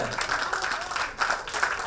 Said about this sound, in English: Let's give a round of applause for all our new members there.